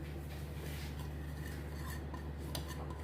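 A kabab mixture with bread crumbs stirred in a bowl, soft continuous scraping and light clinks of a utensil against the bowl over a low steady hum.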